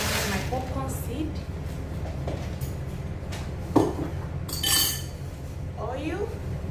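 A plate is handled in a home kitchen with several sharp clinks and knocks of glass or ceramic, some scraping, and a louder knock midway, all under intermittent talking.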